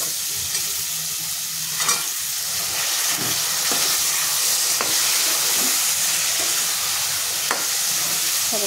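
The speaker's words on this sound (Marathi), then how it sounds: "आपण थोडे थोडे कडधान्य टाकून त्याच्यात परतून घेऊयात" Mixed sprouted pulses frying in spice masala in a pan, a loud continuous hissing sizzle with occasional stirring scrapes, close up and uninterrupted.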